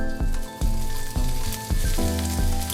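Fish dropped into hot vegetable oil in a frying pan over high heat, giving a loud, dense sizzle with several sharp clattering bursts as pieces land.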